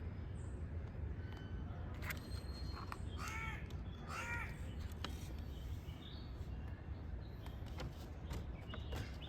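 Birds near a lotus pond call with harsh, crow-like caws in short clustered bursts, over constant loud outdoor background noise.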